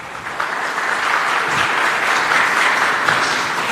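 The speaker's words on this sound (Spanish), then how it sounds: "Un aplauso." Steady applause from an audience at an awards ceremony for a foundation, dense and sustained throughout with no break.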